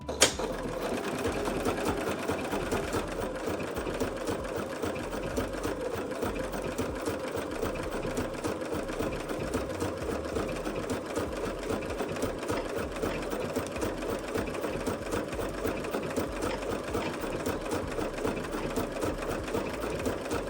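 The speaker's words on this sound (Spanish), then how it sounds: "vamos a sujetar firmemente en ambos lados para que no se mueva y empezamos a coser." A sewing machine stitches patchwork quilt blocks together, running as a steady, fast mechanical whir with rapid needle ticking close up, continuous for the whole stretch with no pauses.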